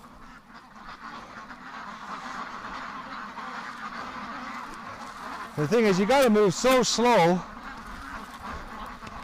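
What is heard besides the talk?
ducks quacking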